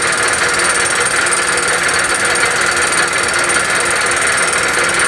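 A fly cutter machining wood makes a loud, unbroken, harsh whirring and chattering roar that stays steady and close throughout.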